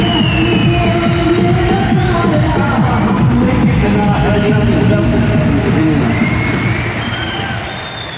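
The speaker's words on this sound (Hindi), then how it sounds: "तो न्यूट्री चार्ज के लिए एक बार तालियां बजाएंगे हम।" An indoor audience applauds, and dense, loud clapping mixed with some cheering carries steadily for several seconds before tapering off near the end.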